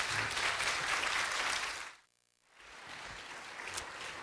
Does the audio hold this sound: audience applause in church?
yes